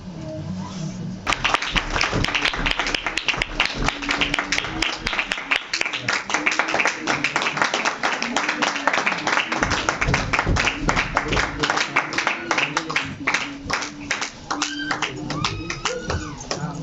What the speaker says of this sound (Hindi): अरे तालियां रुक गई